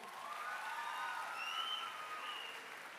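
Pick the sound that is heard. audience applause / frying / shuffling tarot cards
audience applause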